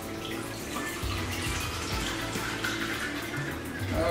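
Liquid from a Cinco de Mayo mixed drink is poured into a glass, making a steady, close splashing wash for about four seconds with no talking.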